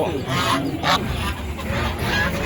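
Geese honk at a busy village poultry market, short honks rising over the chatter of buyers and sellers haggling nearby.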